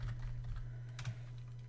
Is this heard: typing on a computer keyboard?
yes